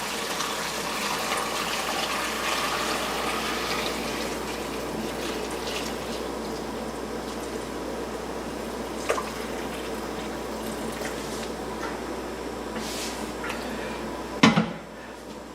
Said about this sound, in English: So we're going to run this through a strainer, fine mesh strainer.